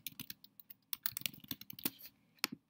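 Fingers type a class title on a computer keyboard, a quick close burst of uneven key clicks and taps lasting a couple of seconds.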